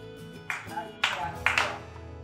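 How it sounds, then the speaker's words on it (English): A 7th grade class claps hands on command, giving a few quick scattered claps in short bursts at moderate distance, over a steady tonal background. "Clap, clap, clap."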